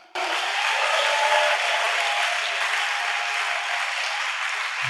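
A church congregation applauding, a sudden dense wash of clapping that starts at once and holds steady and loud throughout.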